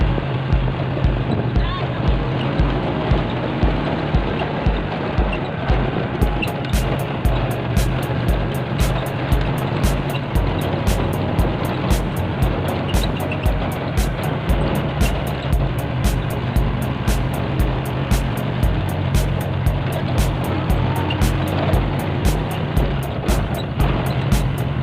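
A Honda Wave motorcycle engine drones steadily on a road test ride, a continuous low, even hum with regular pulsing, close and loud throughout, with wind noise over it.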